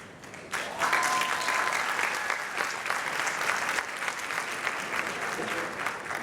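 Loud, sustained audience applause fills a large hall at a film festival talk, swelling after a brief opening and continuing dense and even to the end.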